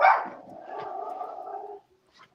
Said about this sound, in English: it was his dog that was going crazy